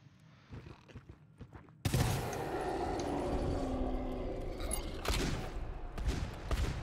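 Gunfire in the video game GTFO erupts suddenly after a quiet stretch, a dense sustained burst of loud, close shots with a few harder hits near the end.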